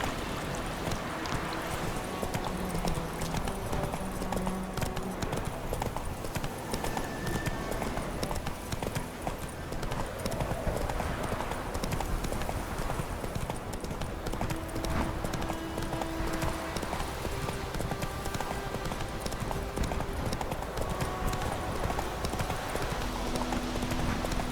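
Roach, a horse in The Witcher 3, gallops with steady, continuous hoofbeats under dense in-game ambience, an occasional whinny rising briefly above the rhythm.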